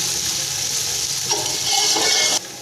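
Garlic and ginger fry in a pan with a steady, close hiss and crackle, with a few louder bursts of sizzle and stirring before the sound drops off abruptly near the end.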